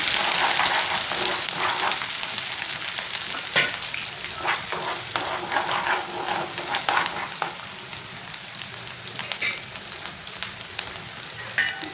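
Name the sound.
frying egg bhurji with onion, chilli, curry leaves, capsicum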